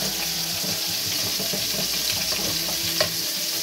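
Tomatoes sizzling in a hot frying pan on a home stove, a loud continuous crackling hiss with soft stirring scrapes and one sharper clink near the end, close and without talk.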